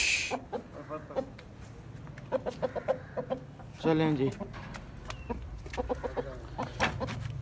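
A rooster clucks in a farmyard with repeated short clucks and one louder drawn-out call in the middle, close by, while a person speaks briefly and other fowl sounds continue around it.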